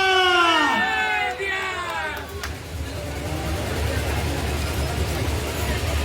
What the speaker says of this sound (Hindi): जोरदार नारा लगा के चले जय बिहार